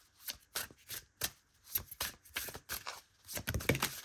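A deck of Liminal Forest Oracle cards shuffled by hand, a string of quick, close riffling bursts in an uneven rhythm, with no talking.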